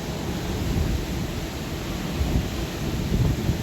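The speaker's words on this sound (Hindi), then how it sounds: "आप हवा की आवाज़ सुन सकते हो," A strong windstorm blows outside, a steady broad rushing roar with gusty low rumbles, heard from indoors without talk.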